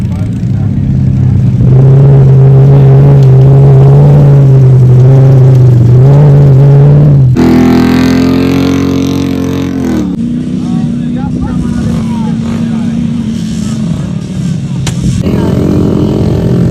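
A jeep engine revs hard and steadily during a desert jeep race on sandy dunes, loud and close, with shifts in pitch as it strains and people talking over it.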